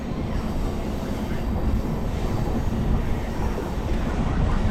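A train rounding a curve past Kumedpur Junction, heard from on board as a steady, loud rumble of wheels and car noise that continues unbroken without distinct clacks.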